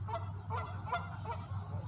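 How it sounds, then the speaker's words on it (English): Waterfowl honk repeatedly outdoors, four or five nasal calls in quick succession at moderate distance over a low background rumble. "Comes these Oregon ducks."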